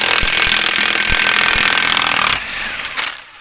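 A power tool, likely an impact wrench, runs loud and steady while removing the spare tire from a GMC Topkick truck, with sharp rattling bursts, then cuts off with a brief final whir.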